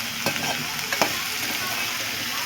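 Broad bean (chikkudikaya) curry is stirred in a pan over a continuous sizzle, with a few sharp scrapes and clinks of the spoon near the start.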